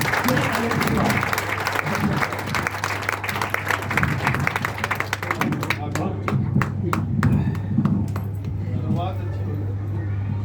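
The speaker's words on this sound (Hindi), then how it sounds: "श्री अनिल श्रीवास्तव के लिए जोरदार तालियां जनाब।" Applause from an audience at a Hindi poetry event fills the room as a steady roar of many clapping hands, with individual claps standing out more sharply as it thins toward the end.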